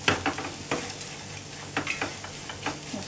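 Fried potatoes tossed with red chili powder and salt are stirred in a pan, with a few clattering scrapes and rustles over a light sizzle, close up with no speech.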